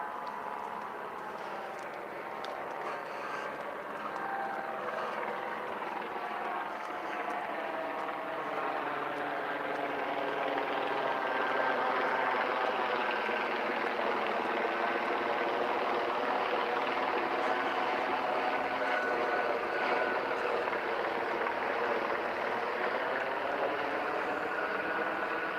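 A helicopter hovering overhead, a steady, continuous rotor and engine drone that stays level for the whole stretch, moderately loud and distant, with no talking.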